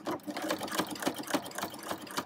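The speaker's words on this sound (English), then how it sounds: "I'm going to start stitching." Sewing machine with a walking foot stitching a quilt seam, a quick rhythmic run of rattling needle strokes at close range, fairly soft and without talk.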